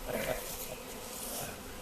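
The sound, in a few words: swarm of honeybees buzzing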